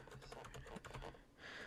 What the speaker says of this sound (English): you'll type your region and then your city